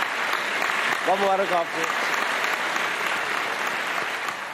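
A studio audience at a televised Ramadan iftar Islamic quiz show claps steadily and loudly for a prize winner, with a host's voice speaking briefly over the dense applause.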